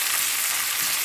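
Ingredients for idli upma sizzle and fry steadily in a hot pan, a continuous close hiss of cooking with faint stirring, no talk.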